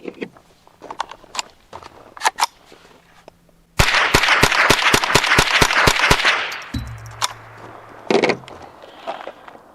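Rock Island Derya TM22 .22 rifle firing ten Wildcat rounds outdoors: a quick, even string of sharp, loud cracks lasting a couple of seconds, preceded by scattered clicks and handling noises and followed by quieter mechanical rattling.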